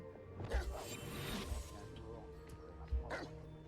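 Dogs barking in the Hogwarts Legacy video game, a few distinct yips and barks at about half-second, one-and-a-half and three seconds, moderately close over a low ambient game background.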